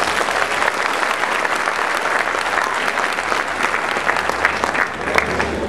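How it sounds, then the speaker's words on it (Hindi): An audience at a Hindi kavi sammelan poetry gathering at Firozeshah Kotla breaks into loud, dense applause, sustained and even throughout with a faint low hum beneath. "आपका समर्थन हो तो तालियों से कहो"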